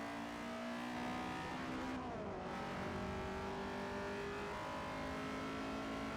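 A Lamborghini engine in the racing game Forza Motorsport 4 drones steadily at high revs with a brief pitch dip as it shifts, then climbs again, loud and continuous with no talking.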